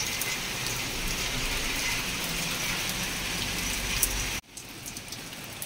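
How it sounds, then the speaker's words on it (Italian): Heavy rain pours onto plant leaves in a dense, steady hiss, then cuts off abruptly near the end, leaving quieter dripping rain. "continua la pioggia"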